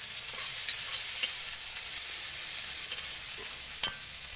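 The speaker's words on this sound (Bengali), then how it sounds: "অলরেডি আমি কড়াইতে আমি খানিকটা পেঁয়াজ দিয়ে দিয়েছি" Chopped onions sizzle steadily in oil in a kadai wok, a close, continuous hiss broken by a few faint clicks of stirring, with no voices.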